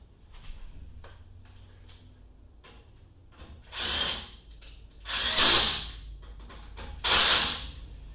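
Tightening bolts on an XPT brake handle cable with hand tools: three loud, bursting mechanical bursts spaced about a second apart after a quieter stretch of small clicks and handling noise.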